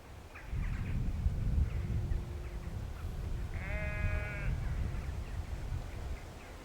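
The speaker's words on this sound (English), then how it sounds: "it is literally sheep as far as the eye can see" A single sheep bleats at mid-distance across an open field, one drawn-out wavering call over a steady outdoor rumble of wind and low background noise.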